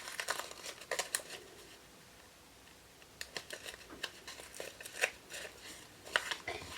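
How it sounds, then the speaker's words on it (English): Paper is torn away from the stitched seams of a small paper-pieced sewing block in quick bursts of crinkly ripping, with a brief quieter pause midway, fairly faint and close. "so you can rip this paper"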